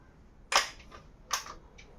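Two sharp, close snaps of a .177 caliber SDB sniper air rifle firing, each a short crack with a faint tail, spaced under a second apart in a quiet setting.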